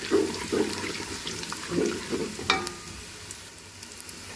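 Whole spices sizzle in hot oil with onions for chicken kofta pulao, soft crackling bursts near the start and around the middle, then a sharper clink and quieter frying with a few small pops.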